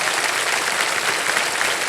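A studio audience on the Hindi quiz show Kaun Banega Crorepati applauds, producing a steady, full wash of clapping that stays even throughout with no speech on top.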